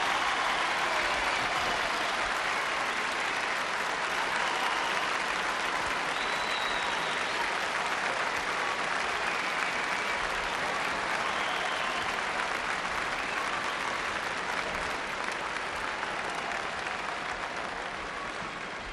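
A pageant audience claps without pause for a long stretch, dense and even, sounding from a large hall with no one speaking over it.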